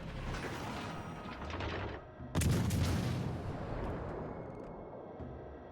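Naval gunfire from an American cruiser, the Cleveland, in World of Warships Legends: a sudden loud blast about midway, preceded by steady mechanical rumble, with the boom's tail rolling off into a sustained churning background.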